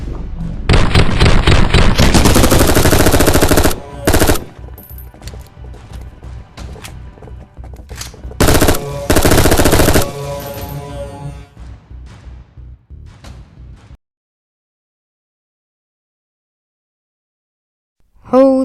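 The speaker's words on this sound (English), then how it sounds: "It's just tiny, compact little SMG, and it does so much." A compact SMG fires in a VR shooter game's sport mode: loud sustained automatic bursts broken by short gaps and single shots, then fading to silence.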